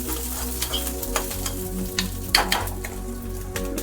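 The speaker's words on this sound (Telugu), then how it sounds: "పచ్చిమిర్చి పచ్చివాసన వరకు మంచిగా ఫ్రై చేసుకున్నాను." Green chilies frying in a pan for a homemade chutney, a close steady sizzle broken by repeated scraping and stirring strokes, with a constant low hum underneath and no voices.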